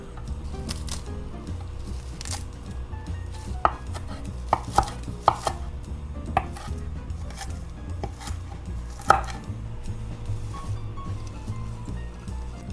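A bunch of kale being chopped with a knife on a cutting board, a run of soft, irregular rustling cuts broken by several sharper, louder knife taps, close and fairly quiet, with no talking.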